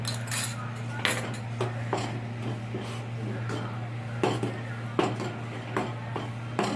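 A utensil stirs rice-flour papad batter in a metal pot, making irregular soft scrapes and occasional sharper clinks against the rim, close and moderately quiet over a steady low electrical hum.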